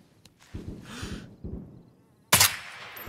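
Suppressed gunshot in the DayZ video game: a single sharp, loud crack near the end, following quieter game noises and faint mouth sounds, with no talking.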